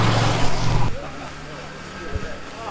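Steady engine hum and road rumble from inside a car on the way to a friend's house in Adimali, India, with the brother at the wheel; a louder burst of noise at the start gives way to a quieter, continuous cabin drone.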